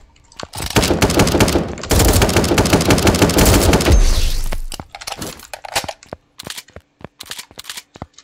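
Rapid SMG fire in the video game 1v1.lol: loud, close automatic bursts lasting several seconds, then scattered single shots and sharp cracks.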